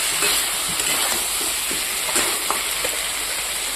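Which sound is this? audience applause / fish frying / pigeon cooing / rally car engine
fish frying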